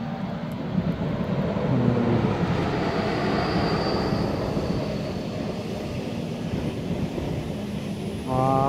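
Steady, loud rushing rumble of a KTX high-speed train going by, lasting throughout with no pauses.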